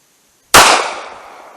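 A single sharp shot from a Ruger .380 LCP Max pistol at an outdoor range, loud and close, cutting in after silence and ringing off in a decaying tail.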